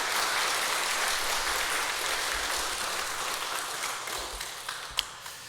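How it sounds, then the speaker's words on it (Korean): A church congregation at a Sunday morning service applauds together in a full, sustained round of clapping that gradually thins out into a few scattered claps. "우리 아사부 회원들께 우리 격려의 박수 부탁드리겠습니다"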